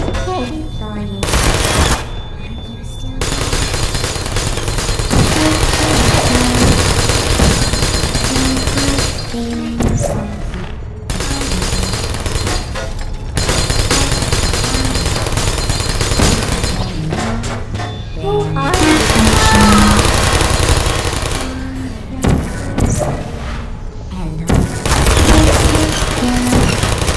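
Rapid bursts of turret gunfire crackle through a video game test chamber, fusillades coming in repeated volleys with short gaps, loud and close, mixed with shattering impacts.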